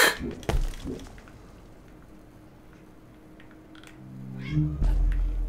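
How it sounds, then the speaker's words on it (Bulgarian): A pet cat meows a few times, a loud close cry at the start and another drawn-out complaint near the end, over a quiet room background. "Това котката ми мрънка."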